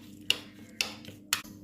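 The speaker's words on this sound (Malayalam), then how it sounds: "ഒന്ന് മിക്സ് ചെയ്യാം." A spoon stirs jaggery with chili powder, salt and garam masala in a bowl for pani puri water, giving three crisp, evenly spaced clinks close by against a quiet background.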